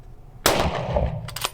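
A single sharp shotgun blast during hunting shooting practice, loud and close, with a brief echoing tail and a faint clatter afterward.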